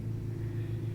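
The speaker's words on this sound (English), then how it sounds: "someone started using a lawnmower" A steady low motor drone, like a lawnmower running outside, hums continuously and evenly throughout.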